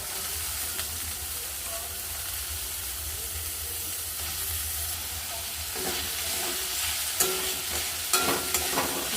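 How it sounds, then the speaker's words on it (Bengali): Green beans frying in a pan with ginger, garlic and green chilli, a continuous close sizzle with stirring scrapes and small clatters toward the end, no voice over it. "এখন আমি বিনসটাকে একটু ভেজে নেব।"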